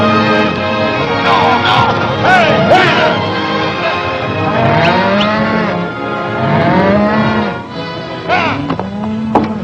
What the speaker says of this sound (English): There's your cattle.